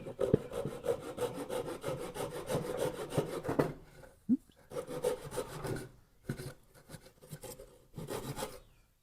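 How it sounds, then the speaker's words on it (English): A small Japanese hand saw cuts through a 3/8-inch wooden dowel in quick, rhythmic back-and-forth rasping strokes. The sawing pauses briefly, then resumes in shorter bursts, close and fairly quiet. "we'll take our little"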